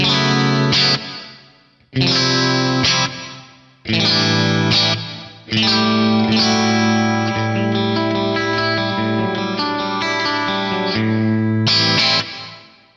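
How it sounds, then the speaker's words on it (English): Electric guitar through a Crazy Tube Circuits Splash reverb pedal in exciter mode: several chords and sustained phrases, each ringing out with a shimmering, chorus-like wash of ambience that decays between strums, then a longer held passage. "We'll start on mode 1, which Crazy Tube call the exciter."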